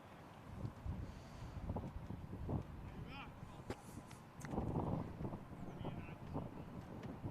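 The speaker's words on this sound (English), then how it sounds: "Still hear that wind through the effects mic. Pretty strong there." Gusty wind buffets an effects microphone at an outdoor county cricket ground during a Somerset versus Nottinghamshire match, a steady low rumble with stronger surges, under faint ambient crowd noise.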